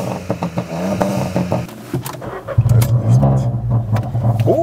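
A 2016 SEAT Ibiza 1.0 car engine, stock exhaust, revs outside, rising in pitch, with a steady low rumble and some background noise; nearby voices are briefly heard at the start.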